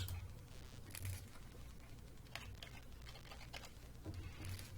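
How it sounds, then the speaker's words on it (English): Faint, quick tapping on a computer keyboard in irregular bursts over a low steady background hum, with nobody speaking. "Let me type that in."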